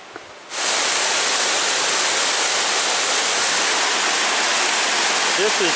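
The steady roar of Shining Cloud Falls in Michigan's Porcupine Mountains fills the scene with dense, broadband rushing water, starting abruptly and continuing loud and unbroken.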